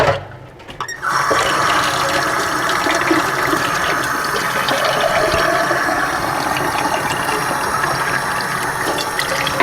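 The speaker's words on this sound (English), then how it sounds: "all I have to do at the last minute is fill them with really hot water" Hot tap water pours steadily and loudly into mason jars being readied for water bath canning of tomato juice, a continuous rushing splash after a brief quieter start.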